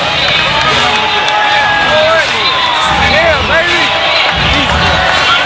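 A boxing arena crowd during Floyd Mayweather Jr.'s ring entrance before facing Sharmba Mitchell, a loud steady roar and hubbub with scattered shouts, under commentators talking.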